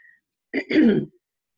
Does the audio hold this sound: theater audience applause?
no